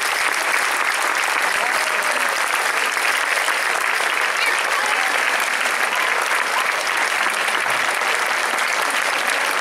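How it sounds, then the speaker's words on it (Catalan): A large crowd at a gathering in Sant Jaume d'Enveja applauds loudly and continuously, a dense, even roar of clapping hands that holds steady throughout without any talk over it. "li enviarem un aplaudiment molt fort, molt fort"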